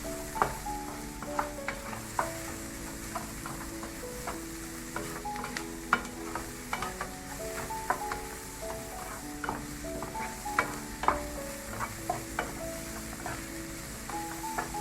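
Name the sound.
stirring frying bihun noodles with a wooden spoon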